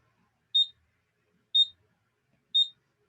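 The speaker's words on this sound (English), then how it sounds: "Clock sure beeps a lot." Workout interval timer clock giving three short, clean, high beeps spaced evenly one second apart against near silence.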